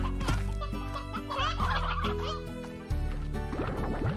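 Chickens cluck and gobble in the video game Slime Rancher, a busy cluster of fowl calls over a sustained tonal backdrop, close and clear for a few seconds with no talking.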